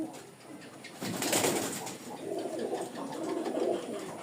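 Flying-breed pigeons with black tails coo in soft, repeated throaty bursts close by, a louder rush of activity kicking in after a quiet opening.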